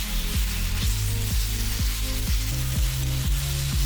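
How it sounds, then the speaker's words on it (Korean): Marinated duck pieces stir-frying in a pan over medium heat, a steady close sizzle with rhythmic scraping and tossing strokes repeating about every half second, no voices. "중불에서 천천히 볶아가며 오리고기의 겉면이 익을 때쯤"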